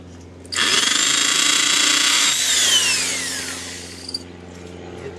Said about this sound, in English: Then I get my drill, it's got a 1/8 inch bit on it, and I drill.